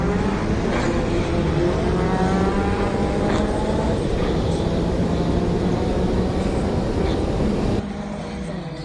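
A Ford Mk2 Escort makes a drag racing run at Santa Pod Raceway, its engine a loud, sustained roar held close and steady throughout, easing slightly at the very end.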